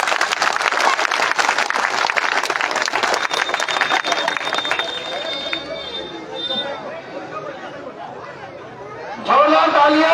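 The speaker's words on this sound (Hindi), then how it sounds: "जोरदार तालियां" Loud applause and clapping from a public crowd at a political rally for leader Sanjeev Beniwal in Bhadi, dense at first, then thinning into crowd chatter before swelling again at the end.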